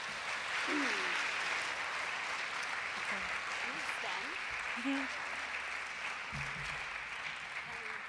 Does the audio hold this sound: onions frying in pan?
no